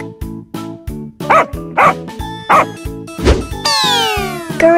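A dog barks in a quick series of sharp, loud yaps layered over bouncy rhythmic music.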